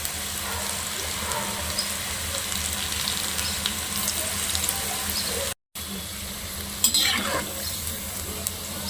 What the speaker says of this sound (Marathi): अशा प्रकारे आपण दोन्ही साईडने चांगले फ्राय करून घेणार आहोत